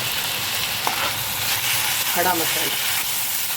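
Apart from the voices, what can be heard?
onion, tomato, coconut and spices sautéing in a pan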